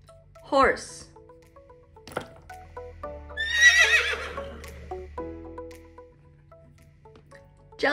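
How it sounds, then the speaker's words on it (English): A horse neighs in a rising, wavering whinny that peaks loudly mid-clip, with a short squeal earlier and soft clicks and tones around it. "Horse."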